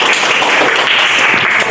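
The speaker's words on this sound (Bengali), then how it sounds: "হাততালি জোরে।" Applause in a classroom during a spoken English lesson, a short burst of steady, dense clapping from many hands throughout.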